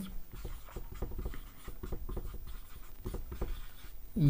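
A pen writes steadily on a board or paper during a lesson, in quick scratchy strokes and taps that come in irregular bursts, close and fairly quiet.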